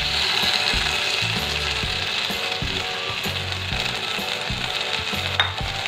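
Chicken pieces are laid into a hot pan for grilling and hiss and sizzle loudly and steadily, with scraping and clattering pan noises that repeat up close.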